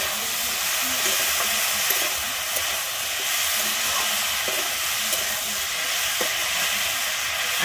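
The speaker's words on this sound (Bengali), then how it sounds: "আমি হলুদ আর লবণটা দিয়ে কিন্তু খুব ভালোভাবে এখানে মিশিয়ে নেব।" Malabar spinach seeds mixed with salt and turmeric in a hot pan, a loud continuous hiss of frying with faint irregular scraping from the stirring underneath, close by and without talk.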